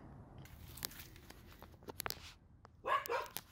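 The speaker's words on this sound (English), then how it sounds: "The dogs are playing," Dogs playing outside on a dry winter evening in Texas give scattered short yips and a louder bark burst near the end, with rustling in between, fairly faint and at a middle distance.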